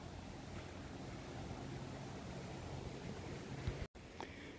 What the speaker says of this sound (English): It's the creek that used to run the mill.